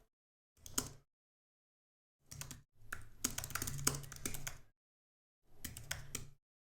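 Keys clatter on a computer keyboard as a pip3 install command is typed in a quiet room, in four separate bursts of rapid, close clicking with silent pauses between them.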